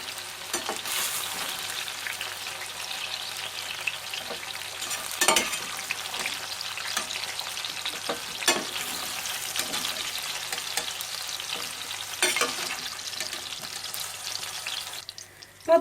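Steady crackling sizzle of eggplant frying in hot oil, continuous and close, with occasional louder pops and clatters from a utensil.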